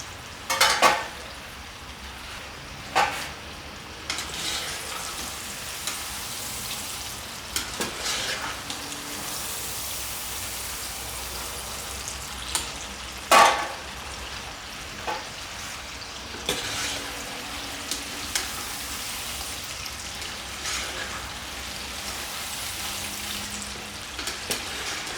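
Chicken breast strips deep frying in hot oil make a steady, close crackling sizzle with occasional louder pops and bursts, running continuously with no talking.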